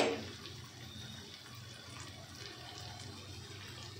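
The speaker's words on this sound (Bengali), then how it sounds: "এবার এবার আমরা অ্যাড করব সামান্য একটু জল," Tap water runs steadily into a pot of potatoes being cooked for aloo dum, a continuous close splashing stream with no talk.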